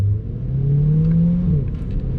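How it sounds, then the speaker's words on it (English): Corvette V8 engine inside the car on a race track, pulling a steady rising drone as it accelerates up through the gears, loud and continuous with a brief shift dip near the end, no talk. "let's get up to fourth gear as we start rolling here."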